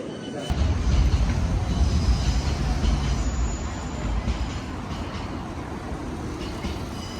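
Rumbling train interior on the final stop of a rail journey, a steady low carriage drone with brief clatter near the start, moderately loud, with faint background chatter.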